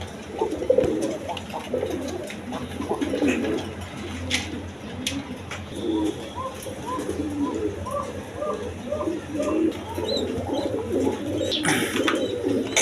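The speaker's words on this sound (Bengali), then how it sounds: "এখানে এক পেয়ার কবুতর আছে দেখেন আর্মি কবুতর" Army pigeons coo in soft, repeated throaty rolls, steady for several seconds and fairly close, with light background noise and no speech.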